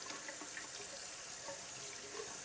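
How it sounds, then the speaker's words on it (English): Water from a running tap splashes steadily over a coffee maker lid during a quick rinse at a kitchen sink, a continuous close hiss with no talk. "I'll just give that a quick rinse off."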